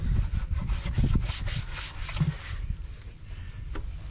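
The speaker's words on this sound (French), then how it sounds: "je suis en train de remettre la boîte à air" An air box is fitted back onto a Yamaha Xmax 125 scooter, heard as close plastic rubbing, scraping and knocks in uneven bursts that taper off toward the end.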